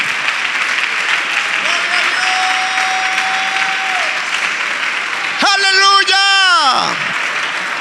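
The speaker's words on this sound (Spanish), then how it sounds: "Dele un aplauso al Señor bien fuerte en esta hora" Loud applause from a church congregation runs continuously while someone speaks over it, and a sustained sung or shouted tone rises midway before the clapping carries on.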